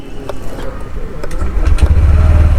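A 2025 Honda Activa 125 scooter with a silent starter fires up, its engine catching after a second and a half into a steady, quiet idle hum with a faint rumble.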